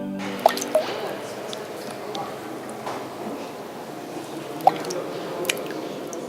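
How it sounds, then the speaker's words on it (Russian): Water drips inside an ice cave where seepage freezes, with a few sharp, separate drops landing at irregular intervals over a steady, faint hollow background hiss. "Осенью, во время проливных дождей, в пещере настоящая капель."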